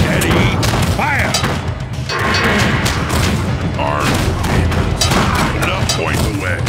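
Musket volleys and booming shots in the real-time strategy game Battle Realms, dense and continuous, mixed with thuds and battle noise while game unit voices talk over the action.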